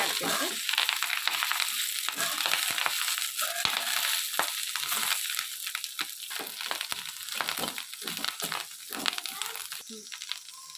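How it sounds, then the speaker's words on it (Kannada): Curry leaves fry in a pan with a dense crackling sizzle and crisp rustling as they are stirred, steady throughout at moderate loudness. "ಇದನ್ನ ಚೆನ್ನಾಗಿ ಫ್ರೈ ಮಾಡ್ಕೊಂಡ್ಮೇಲೆ ನೋಡಿ ಎಷ್ಟೊಂದು ಹಾಕ್ಕೊಂಡಿದ್ದೆ ಎಲೆ, ಅದೆಲ್ಲ ಚೆನ್ನಾಗಿ ಫ್ರೈ ಆಗಬೇಕು"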